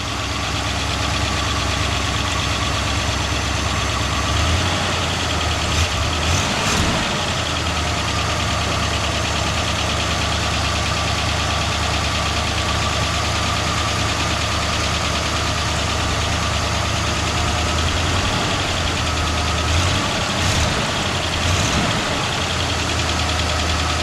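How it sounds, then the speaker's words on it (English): A cold V8 engine idles steadily and loudly for the whole stretch, a low rumble carrying a faint, rapid lifter tick. "So that little bit of tick you hear is the lifters."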